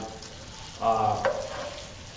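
Meatballs frying in a pan, a soft steady sizzle that swells briefly louder for a moment then settles back to a low crackle, close by with no talking.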